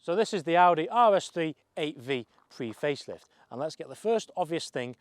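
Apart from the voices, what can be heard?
No everyday noises stand out.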